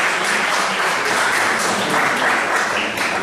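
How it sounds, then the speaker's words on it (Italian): Audience applause at a book presentation in Irpinia for Pasquale Moscillo, a short dense burst of clapping from a room of people. "un applauso a Pasquale."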